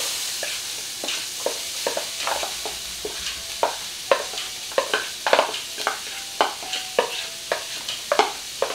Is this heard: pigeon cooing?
no